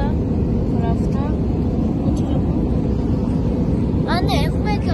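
Steady, loud engine and air roar fills an airplane cabin in flight on the way to Sri Lanka, with brief muffled voices and a faint chime-like sound near the end.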